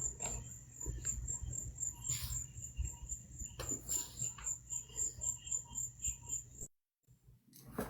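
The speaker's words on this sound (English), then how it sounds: "At least the crickets are done now, or the cicadas or whatever was going on there." Crickets or cicadas chirp in a steady, pulsing rhythm, a high continuous trill that cuts off abruptly near the end and briefly drops to silence.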